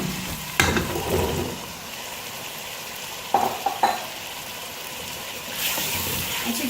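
Pumpkin pieces go into a pan of frying masala for a pumpkin and chana dal dish: a steady low sizzle with a few sharp stirring scrapes and clatters near the start and in the middle, no voices.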